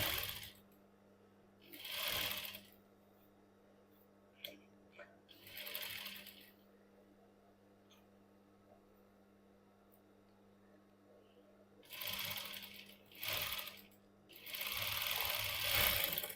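A sewing machine stitches a princess cut blouse in several short bursts of rapid running, separated by quiet pauses while someone speaks.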